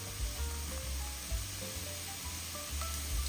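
Onion and garlic sizzling in a pan of stew, a steady crackling fry running throughout at moderate volume with low thumps from stirring underneath.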